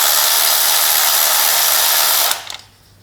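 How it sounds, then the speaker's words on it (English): A power tool spins out an ignition coil screw on a Kia Sportage with a 10mm socket, producing a loud, steady whir that stops abruptly after about two seconds, followed by a few light clicks. "get a 10mm socket, remove that screw, and then pull the coil out."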